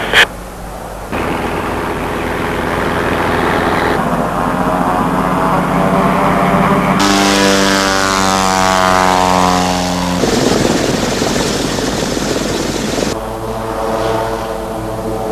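A propeller airplane takes off from a runway, its engine roaring loud and steady with shifting pitch as power builds and the aircraft accelerates, close and continuous throughout.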